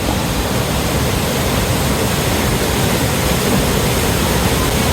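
Floodwater rushes in a broad, unbroken roar through a valley in Kashmir, loud and close, a dense, even wash of noise with no talk over it.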